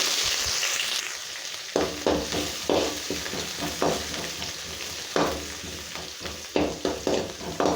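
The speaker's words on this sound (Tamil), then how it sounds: "வெங்காயத்தை லைட்டாக வதக்கிடலாம்" Sliced onion and curry leaves fry in hot oil with a steady close sizzle, punctuated by a string of sharp spatula scrapes and stirring knocks against the pan, with no talking.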